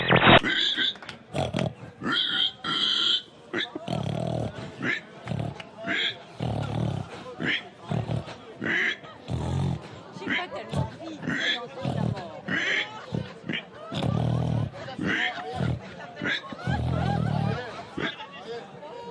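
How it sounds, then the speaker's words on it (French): A small pig grunts and oinks amid a lively crowd babble, with people talking loudly throughout and the animal's calls blending into the surrounding noise. "Un petit cochon."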